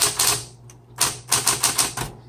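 Rapid keystrokes clatter on a 1960s Smith Corona Coronet Electric 12 electric typewriter, a quick cluster of crisp mechanical strikes, a short pause, then another run of sharp, close taps.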